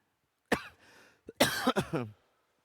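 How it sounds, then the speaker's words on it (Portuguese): A couple of harsh coughs and throat-clearing bursts, close and fairly loud, separated by short pauses, with no talking. "Eu estou com tosse aqui"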